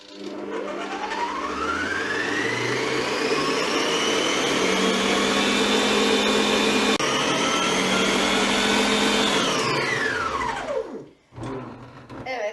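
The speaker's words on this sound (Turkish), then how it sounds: "Şimdi ikisini kar beyazı olana kadar çırpıyorum." Electric hand mixer whisks eggs and sugar in a bowl for cake batter, a loud, steady motor whine that rises in pitch at start-up, holds for about ten seconds, then winds down and stops, with brief clatter after.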